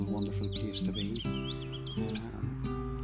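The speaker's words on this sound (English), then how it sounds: "You can even hear the blackbird in the background." A blackbird sings fluting, warbling phrases in riverside woodland in Fermanagh, clear and fairly near, over a low steady hum, while someone talks briefly beneath the song.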